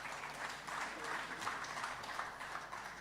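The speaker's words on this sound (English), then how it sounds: "Let's give them a hearty clap" Delegates at a regional state address clap in thanks to member states, a fairly faint, even patter of applause from a hall audience that continues throughout.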